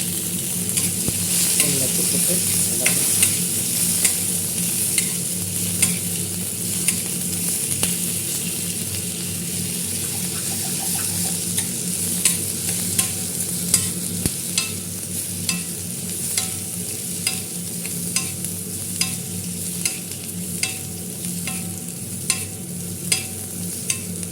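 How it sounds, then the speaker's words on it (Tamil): Onion, tomato and coconut being sautéed for curry leaf chutney, with a steady sizzle across the whole stretch and repeated stirring scrapes and clicks of the spoon against the pan, close and fairly loud, with no talk. "நல்லா வதக்கணும் சிவப்பு கலர் வர்ற வரைக்கும் வதக்கிடணும்"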